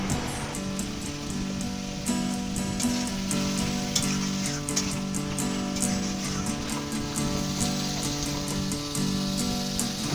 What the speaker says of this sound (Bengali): আর একটু জল দিয়ে ভালো করে মশলাটাকে ভেজে নেওয়া হচ্ছে